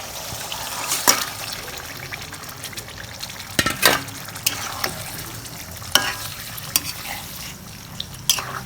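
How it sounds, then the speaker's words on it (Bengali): Rohu fish pieces go into a pan of frying spice paste, making a soft, low sizzle broken by a few sharp clatters and scrapes of stirring, close by with no voices. "এখন আমি এই যে মাছগুলো দিয়ে দিচ্ছি।"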